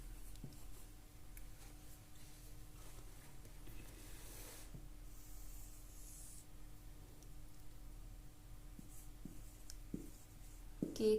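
Faint pen scratching on paper while working through a quadratic equations problem in a maths lesson, soft intermittent strokes over a steady low background hum, no voices.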